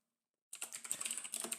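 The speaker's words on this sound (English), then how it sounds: "I'm typing this all down in our Discord, so I have the scores logged." Fast typing on a computer keyboard, close and clear, with quick irregular key clicks that begin abruptly after half a second of silence.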